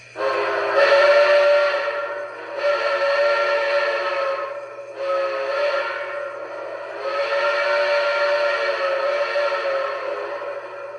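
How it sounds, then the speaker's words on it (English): An MTH model train whistle, on a Central Railroad of New Jersey 777 Camelback locomotive, blows in four long, steady blasts with short breaks between, loud and close, in the long-long-short-long crossing pattern. "here is the best crossing whistle I've ever heard on any MTH train."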